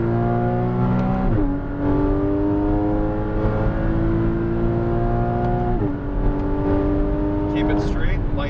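Porsche Cayman GTS on a track, engine loud and close, revving up through the gears with two clear shift breaks as the pitch climbs again, and a coach's voice talking over it.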